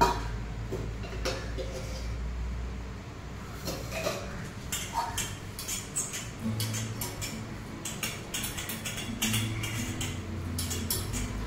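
A metal tin is greased all over with oil, making scattered light clinks and scrapes of metal up close, with a voice talking at times.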